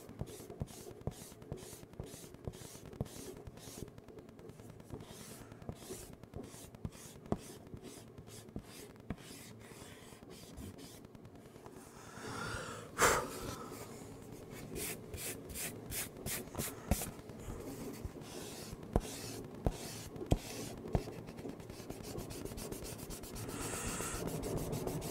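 Erasing pencil lines from a hand-drawn sketch: repeated short rubbing strokes of an eraser on paper, quiet and close, coming in quick bursts with brief pauses between them, no talking.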